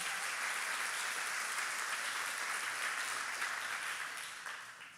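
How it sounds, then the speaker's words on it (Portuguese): A congregation in church breaks into sustained applause, many hands clapping in a thick, continuous roar that stays level and then tapers off slightly near the end. "Pode aplaudir o Senhor."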